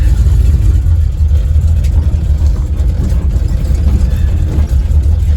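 A supercharged AMC Javelin runs with a loud, close, low engine rumble that holds steady throughout, idling and revving gently with no talk over it.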